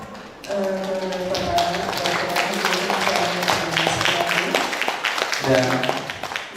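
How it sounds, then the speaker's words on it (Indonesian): An audience applauds the company's president director at an indoor gathering. The clapping is a thick, sustained patter lasting several seconds, with steady musical tones and voices running underneath. "kasih tepuk tangan yang meriah buat Direktur Utama kita"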